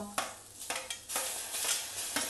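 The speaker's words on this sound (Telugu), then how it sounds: "ఉల్లిపాయలు కొంచెం బాగా వేగింది కదా ఇప్పుడు టమాటా వేసేద్దాం" Onions and tomato fry in a pan with a steady sizzle, while a spatula stirs and scrapes through them at irregular intervals, close up and with no speech.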